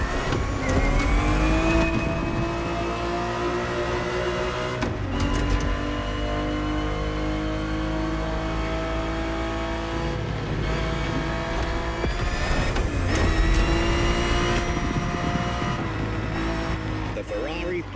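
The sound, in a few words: Ferrari 365 GTB4 engine racing in video game The Crew Motorfest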